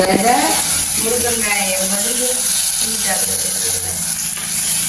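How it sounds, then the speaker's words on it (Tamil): Tomatoes sautéing in a pan during a home lunch cook in Jaffna give a steady close sizzle and frying crackle with some stirring, running under talk throughout. "தக்காளி பழத்தையும் போட்டு வதங்கி கொண்டு"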